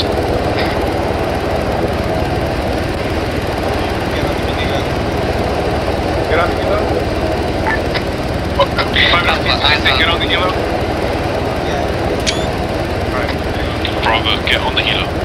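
A Black Hawk helicopter engine in Arma 3 drones as a steady loud whine and rotor hum throughout, with voices talking over it and scattered radio chirps.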